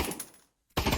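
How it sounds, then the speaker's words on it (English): Rifle fire on burst mode in a VR shooting game, two short loud bursts separated by a brief silence. "Let's go on burst fire here"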